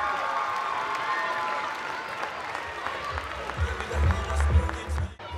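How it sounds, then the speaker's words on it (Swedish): Crowd applause for the team leaders at a handball club's season-ending celebration, loud clapping that fades somewhat midway, then low rumbling footsteps or movement and some cheering rise before it cuts off. "Ge dem applåder!"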